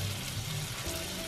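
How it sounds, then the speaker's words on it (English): Pot roast beef searing in a hot pot, a dense continuous sizzle close up with no voices. "once we allow this to sear on the other side"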